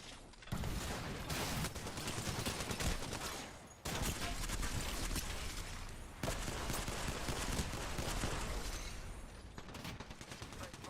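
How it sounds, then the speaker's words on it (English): Enemy gunfire in a video game: loud, continuous rapid bursts of shooting that fill the clip, broken by two brief pauses. "The enemies are shooting at me."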